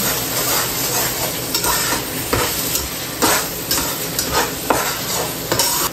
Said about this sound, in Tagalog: Tapos, scramble mo sa dyan.